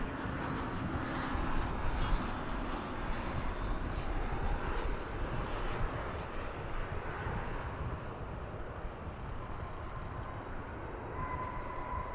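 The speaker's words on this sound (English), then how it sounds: "It's an Airbus A321, the next arrival on your pals here at Runway DFW." An Airbus A321 airliner arriving at DFW International Airport, a steady broadband engine roar sustained throughout without interruption, fairly loud and slowly easing off toward the end, with no voices.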